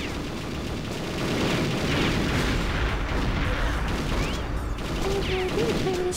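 Enemy gunfire in the N64 shooter Perfect Dark, a dense sustained barrage of shots and booms that keeps up at a steady loud level across the whole stretch, with faint game tones near the end.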